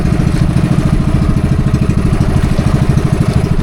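A boat motor runs loud and close on the water in the Philippines, a steady rapid low-pitched chugging throb that holds constant without pauses.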